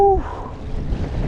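Gusty wind buffets the microphone out on the water beside a fishing kayak, a broad low roar with fluctuating rushes, preceded by a brief tonal whistle at the start.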